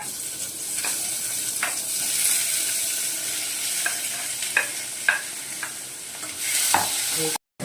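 Mixed vegetables fry in about two spoons of oil for vegetable pasta, a continuous close sizzle with scattered clicks and scrapes of stirring, ending in a brief gap.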